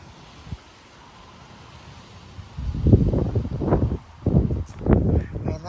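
A strong wind gust of about 35 mph in Frisco, Texas starts as a quiet outdoor hush, then bursts into several loud, low buffeting surges that batter the microphone for a few seconds.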